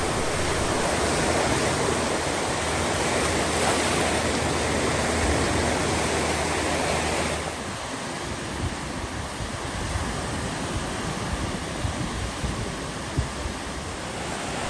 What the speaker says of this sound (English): I'm down by the lake, enjoying the sound of the water and the fresh air